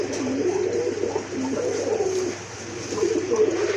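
Pigeons coo repeatedly in a loft of fancy breeds (lakkha, gola, racer, satin), soft low throaty calls overlapping one another against a steady background hum, fairly close.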